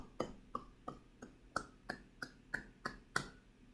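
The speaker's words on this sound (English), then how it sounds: "Clap for ourselves." About ten crisp hand claps from a person or small group, spaced evenly at a brisk, steady tempo, close by and otherwise quiet between the claps.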